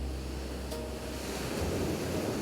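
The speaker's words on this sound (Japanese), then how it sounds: "静かに目を閉じれば海の音が聞こえてくるだろう。" Ocean waves wash in as a soft, steady surf hiss, faint and continuous, with no voices.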